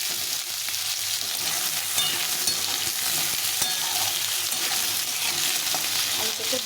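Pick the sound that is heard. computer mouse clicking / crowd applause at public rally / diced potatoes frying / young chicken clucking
diced potatoes frying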